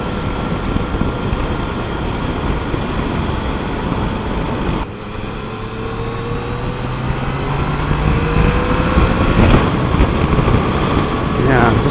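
A 2015 Yamaha FJ-09 three-cylinder motorcycle on the move, its steady engine drone and rising revs loud and close with wind noise throughout, briefly dipping around the midpoint before pulling again.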